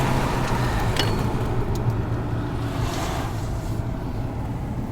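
Cabin sound of a 2004 Volkswagen Phaeton 3.2 V6 running on LPG while driving, a moderate smooth engine hum under broadband road and wind noise, with a few faint clicks, no speech.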